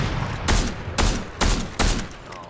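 Sniper rifle shots in Fortnite: four loud, sharp cracks spaced roughly half a second apart, each with a short booming tail, over a low game-ambience rumble and no talking.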